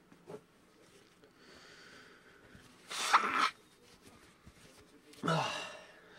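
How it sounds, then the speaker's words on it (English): A person with a bad, stuffed nose blows it twice, a short honking burst near the middle and another toward the end, close and fairly loud against a quiet room with a faint sniff early on. "I never blow my nose in a video"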